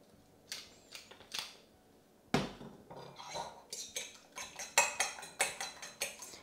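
Egg whisked in a bowl while breading chicken goujons: quick, irregular metal-on-bowl clinks and scrapes, close and fairly quiet, speeding into a steady rhythmic clatter.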